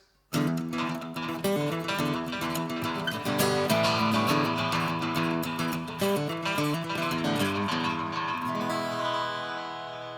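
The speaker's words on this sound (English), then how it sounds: "The next effect that we're going to look at is the echo" Picked carbon fiber guitar notes and chords play with an echo delay effect, each note repeating faintly behind it before the sound trails off at the end.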